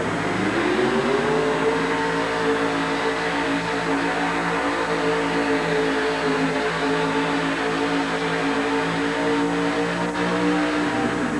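A monster truck's engine roars steadily at full strain during a 1988 truck pull in Richmond, Virginia, a loud sustained drone holding nearly constant pitch for over ten seconds with no voices on top.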